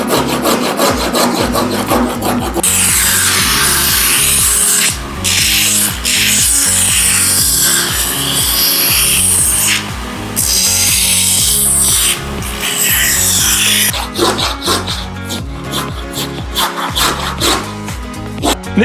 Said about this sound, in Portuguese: eu vou usar a lixadeira, que para mim é muito mais prático